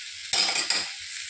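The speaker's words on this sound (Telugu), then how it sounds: "ఇలా పచ్చివాసన పోయేంత వరకు వేయించుకోండి." Broad beans with green chilies frying in a pan: a short burst of sizzling with a stirring scrape, heard up close and alone.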